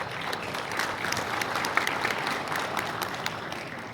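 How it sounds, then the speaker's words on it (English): An audience at an international electric power technology exposition gives a sustained round of applause to welcome a presenter, steady dense clapping filling the room throughout with no talk. "let's welcome Mr. Henderson, if you will, with a round of applause."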